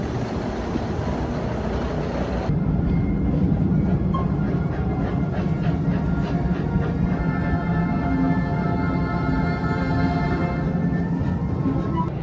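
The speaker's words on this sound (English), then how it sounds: "Enjoy your ride aboard the Busch Gardens Railway." An amusement park railway train at Busch Gardens Williamsburg rolls along steadily with a continuous rumble and faint rhythmic clacking of the wheels, with no voices.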